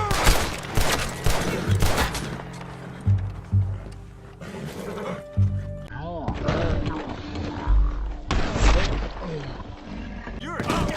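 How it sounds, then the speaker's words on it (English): Gunfire in the Red Dead Redemption 2 western game crackles in rapid bursts and volleys, loud and close, mixed with shouting voices and a dramatic game soundtrack. "We'll open fire."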